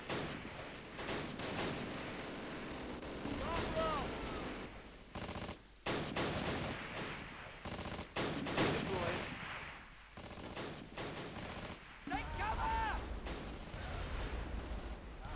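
Gunfire crackles through a Close Combat battle in Normandy, with repeated rifle shots and machine-gun bursts at varying distances, sharp cracks breaking out over a continuous din of combat noise.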